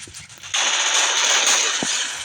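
Rapid automatic gunfire in a shooting video game, a sustained loud burst after a brief quieter lead-in, dense and continuous close up, no talk over it.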